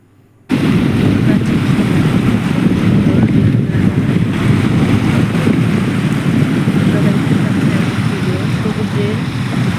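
Steady broadband roar of sea waves on the Bay of Bengal, loud and continuous with heavy wind buffeting the microphone, starting abruptly after a brief silence and washing on without pause.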